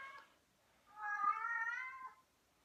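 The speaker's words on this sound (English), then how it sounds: "my cat's meowing" A house cat gives one drawn-out, clear meow, close by and fairly quiet, after a brief faint earlier cry, in an otherwise hushed room.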